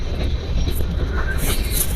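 Passenger express train on the Tanakpur–Daurai route rolling into Bisaratganj station, a steady low rumble of wheels and carriage noise with faint higher hiss, continuous and fairly close throughout.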